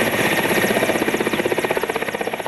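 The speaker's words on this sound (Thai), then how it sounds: "หลังจากที่เฮลิคอปเตอร์ท-17จากกองทัพภาคที่2ลงสู่พื้นสนามบินขอนแก่น" A Thai Second Army Area helicopter touches down at Khon Kaen airport, its rotor producing a loud, steady rhythmic thudding chop over constant engine whine, close by and with no voices.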